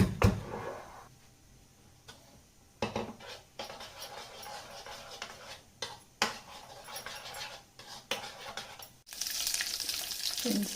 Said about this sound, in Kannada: ಇದು ಒಗ್ಗರಣೆಗೆ 2 ಸ್ಪೂನ್ ಆಯಿಲ್ ಹಾಕ್ಕೊಂಡು ನಾನು ತೋರಿಸಿದ ಇಂಗ್ರೀಡಿಯೆಂಟ್ಸ್ ಎಲ್ಲ ಅಂದರೆ ಸಾಸಿವೆ, ಜೀರಿಗೆ, ಮೆಣಸಿನ್ಕಾಯಿ ಎಲ್ಲ ಹಾಕ್ಕೊಂಡು ಒಗ್ಗರಣೆ ಹಾಕ್ಕೊಂಡು